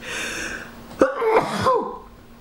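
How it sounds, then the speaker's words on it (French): A single sharp sneeze bursts out after a brief indrawn breath, followed by a short breathy vocal trailing sound, close to the listener. "j'ai envie d'éternuer aussi"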